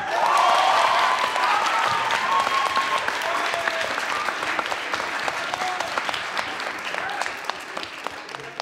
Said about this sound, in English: will be welcomed with great aplomb and great applause